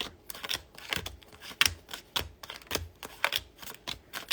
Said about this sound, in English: So we're just going to shuffle out cards.